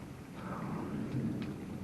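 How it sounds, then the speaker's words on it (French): A heavy thunderstorm passing over northern France, steady rain hiss with low rolling thunder rumbling underneath, continuous and fairly close, no voices. "Ce gros orage est passé"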